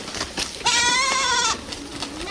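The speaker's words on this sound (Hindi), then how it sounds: "अगले दिन सुबह सुबह फिर से शंभू अपनी सारी बकरियों को लेकर मैदान की तरफ निकल जाता है।" Cartoon goats bleating in a field: one loud, drawn-out wavering bleat in the middle, framed by softer bleats before and after, close and clear with no talk.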